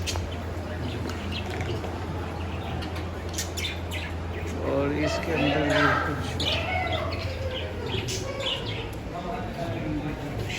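Birds chirping and calling at a Jain temple bird hospital caring for injured and sick birds: a steady chorus of tweets and coos under a voice speaking Hindi.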